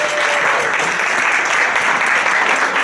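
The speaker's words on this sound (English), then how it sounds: "Let's give her another big round of applause." Loud, sustained applause from a large audience at an awards roast and gala, a dense continuous wash of many hands clapping that stays steady throughout.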